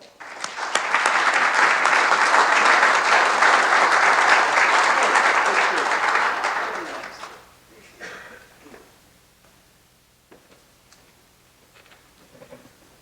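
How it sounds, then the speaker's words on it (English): Applause from a summit audience welcoming Governor Jack Dalrymple, a loud, thick wash of clapping that swells for about seven seconds and then fades out to quiet room sound with a few scattered noises. "Let's give a big round of applause for Governor Jack Dalrymple"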